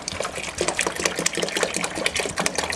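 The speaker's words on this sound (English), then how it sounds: "so we're going to add water" Water is poured into a pot of gazpacho set on a stove burner, a steady close splashing and gurgling stream with irregular bright spatters, running continuously and fairly quietly.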